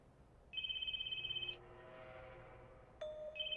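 A phone ringtone in the horror video game Spirit Hunter: NG chimes in a quick pulsing tone, falls silent, then starts up again, quiet and a little distant over a low ambient hum.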